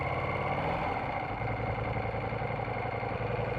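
A passing motorcycle, a BMW S1000RR, hums steadily nearby on a California road, its engine note blending with the drone of the rider's own Ducati Diavel V4 with no talk.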